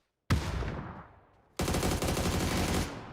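Gunfire from the battle royale shooter PUBG comes as two sharp bursts, a short shot that rings and decays, then after a pause a sustained rapid volley, loud and close.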